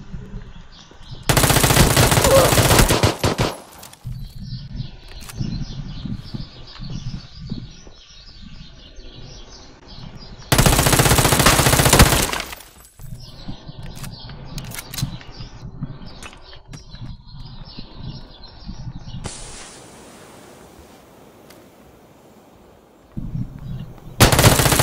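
Bursts of automatic gunfire in PlayerUnknown's Battlegrounds, three long rapid volleys separated by quieter stretches of footsteps and rustling, with a single sharp shot at the very end.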